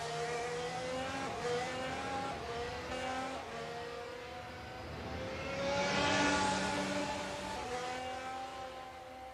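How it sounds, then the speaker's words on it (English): The safety car laps the Austria circuit in an F1 racing game, its engine a steady, fairly quiet tonal drone that swells briefly as it accelerates before settling again. "So as the safety car works, I will drive out past the S's into the entrance of turn 3."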